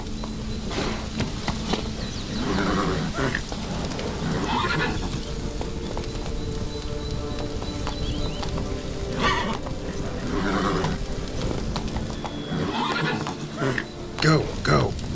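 Roach the horse in The Witcher 3 gallops with rapid rhythmic hoofbeats and gives several neighs and whinnies, fairly close, while a voice talks over parts of it.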